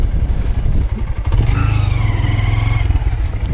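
A Honda Grom motorcycle ridden at night, its small single-cylinder engine throbbing close and steady with a rising rev, constant road and wind noise under the exhaust.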